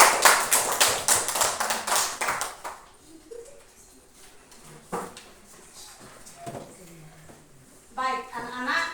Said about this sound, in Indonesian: Kita beri tepuk tangan untuk semua.